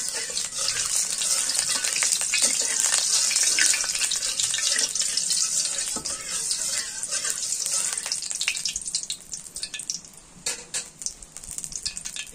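River prawns hit hot mustard oil in a pan, setting off a loud, steady, close sizzle and crackle that runs continuously and eases slightly toward the end, with no voices.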